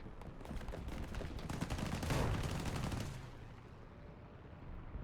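Bursts of video game gunfire crackle in quick rapid volleys, peaking mid-way before easing into a quieter background wash, with no voices over them.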